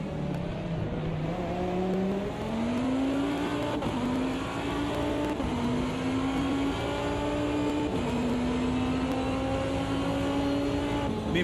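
A 2005 endurance race car laps the Spa circuit in Automobilista 2, its loud, rough engine revving steadily up and down through gear changes with a harsh, raw tone throughout and no talk.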